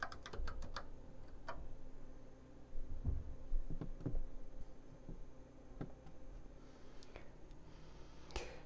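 Typing on the keyboard of a 1977 Commodore PET 2001 computer, a handful of faint clicky key presses spaced irregularly over a quiet background hum.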